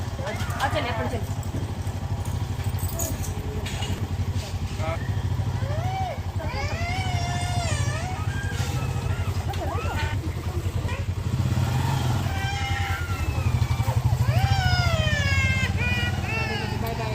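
A motorbike carrying a family on a road trip drones steadily underneath nearly continuous talk, with high whistling tones sliding in and out over the engine's low hum.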